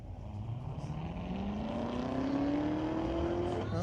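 A C7 and a C6 Corvette drag racing at Mission Raceway Park on a street-legal night, their engine note climbing steadily in pitch as they accelerate away, a continuous rising roar at moderate distance.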